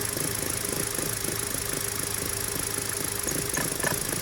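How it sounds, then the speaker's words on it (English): Car engine idling with a slight misfire and surge, heard up close as a steady rumble with irregular knocks and rattles, continuous throughout. "So they say that is the misfire there is happening."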